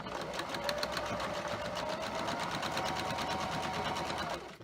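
A sewing machine runs steadily while stitching colored quilt block pieces for a 4X star block, a close, continuous rapid whirring that winds down at the very end.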